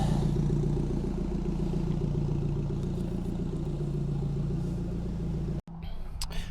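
A crash-damaged Mini JCW car drives along a private road, its engine giving a steady low rumble with rattling clatter, heard loud and close, then cutting off abruptly before a quieter, rougher passage.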